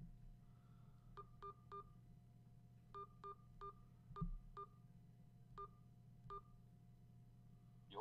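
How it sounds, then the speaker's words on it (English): A phone number is keyed into a telephone keypad, producing a sequence of about twelve short DTMF tones in quick clusters over a low steady hum, each beep crisp and close with no talking. "I'm going to go ahead and enter in my number."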